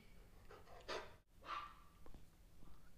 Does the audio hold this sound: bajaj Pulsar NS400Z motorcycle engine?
no